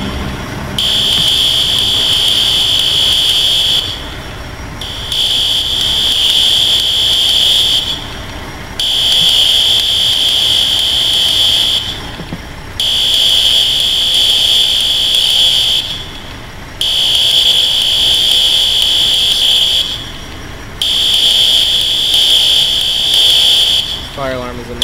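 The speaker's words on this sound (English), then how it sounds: "Fire alarm is annoying as hell, but it's doing its job." A fire alarm sounds in a school during a firefighting training scenario, a loud, high-pitched buzzing tone blaring in long bursts of about three seconds with short gaps, repeating steadily throughout.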